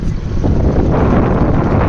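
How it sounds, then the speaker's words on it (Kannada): Strong sea wind at Cabo de Rama beach in Goa roars steadily across the microphone, a loud continuous rumbling buffet with no voices. "ಒಳ್ಳೆ ಗಾಳಿ ಬೀಸ್ತೈತೆ ಗೈಸ್ ಇಲ್ಲಂತೂ"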